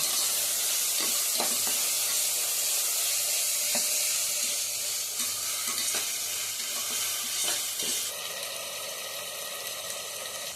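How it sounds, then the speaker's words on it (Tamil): Green chilies and tomatoes fry in a pan for vegetable biryani, a steady close sizzle running throughout while a spoon scrapes and stirs in scattered knocks, with no talking. "பச்சை மிளகாய், தக்காளி, நல்லா கிண்டி விடணும்."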